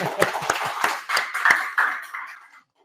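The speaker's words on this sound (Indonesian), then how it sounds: "tepuk tangan dulu untuk kita semua" A classroom claps, a short run of scattered, uneven claps that builds briefly and then tapers off into silence.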